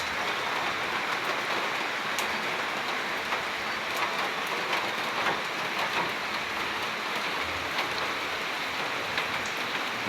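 Heavy rain pours steadily during a low-pressure spell in the Philippines, a dense constant hiss and patter on surfaces that stays loud and unbroken throughout, with no voices.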